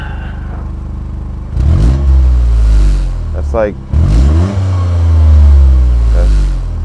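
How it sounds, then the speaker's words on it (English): A Toyota GR Corolla's 3-cylinder turbo engine fitted with an aftermarket mid-pipe is blipped through a couple of loud, close revs that rise and fall, with a short spoken remark between them. "Do a couple revs."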